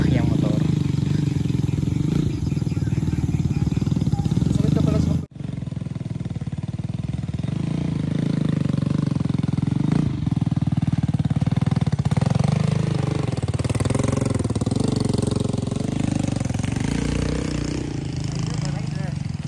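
A motorcycle engine labours on a rough mountain road, a steady mid-pitched drone with a brief cut near the start and rising revs later, heard under a voiceover.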